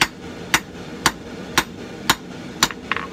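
Hammer blows on hot steel while drawing out and dressing the tapered point of a Viking seax blade, six sharp ringing strikes spaced about half a second apart, close and clear with no talk.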